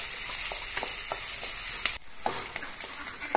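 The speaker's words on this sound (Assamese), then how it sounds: "এইখিনি ভাজি ল'ম অলপ, যেতিয়ালৈকে পিঁয়াজৰ কালাৰটো ব্ৰাউন নহয় তেতিয়ালৈকে ভাজি।" Onions and green chillies sizzling steadily in hot oil in a pan, a constant close frying hiss with occasional stirring clicks and a brief scrape, no voices.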